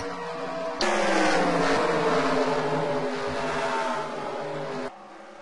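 NASCAR Sprint Cup stock cars racing at Pocono in 2015, a loud roaring engine wash that swells abruptly, holds for several seconds, then drops back to a quieter distant rumble.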